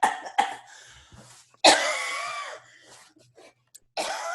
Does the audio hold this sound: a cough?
yes